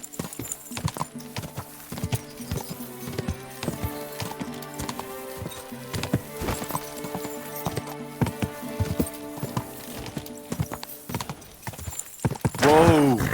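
Horse hooves clip-clop steadily in Kingdom Come: Deliverance 2, a loud, continuous rhythmic trot with a whinny near the end and occasional voices over it.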